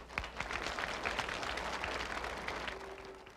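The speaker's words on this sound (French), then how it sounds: "On les applaudit." Applause at a school graduation ceremony, a moderate crowd clapping with distinct individual claps audible, fairly quiet and steady, no talk over it.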